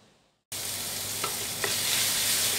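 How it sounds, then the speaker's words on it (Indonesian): Spices with turmeric and garlic sautéing in a pan, a steady loud hiss starting abruptly after a brief quiet moment, with two small clicks of a utensil partway through. "langkah pertama seperti biasa saya tumis dulu bumbunya ya"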